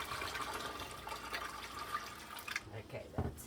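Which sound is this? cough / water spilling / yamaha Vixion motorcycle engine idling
water spilling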